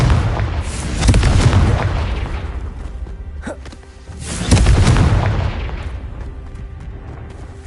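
Confringo blasting spells going off in Hogwarts Legacy, two loud booming explosions a few seconds apart, each with a deep rumbling blast that rolls off into a fading tail.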